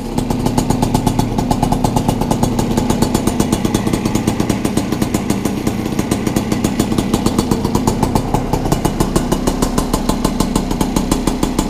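A Piaggio Si moped's small two-stroke engine runs on its first start, giving a loud, close, continuous rapid putter with an even, pulsing beat that holds steady throughout.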